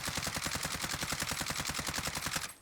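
Video game automatic gunfire rips out in one unbroken, evenly paced burst as a whole magazine is emptied, loud and close, stopping abruptly at the end.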